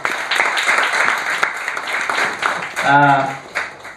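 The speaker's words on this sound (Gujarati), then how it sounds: "ધીરજલાલ કોટડિયા સાહેબનો જ્યારે પરિચય થાય અને તાળીઓ ન પડે તો મને વ્યક્તિગત ના ગમે." Steady applause from a seminar audience fills the clip, with a voice speaking over it near the end.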